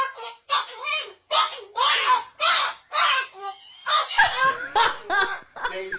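A caged bird, crow-like, gives a run of loud, harsh caws and squawks from a played recording, with close, repeated bursts and short gaps between them.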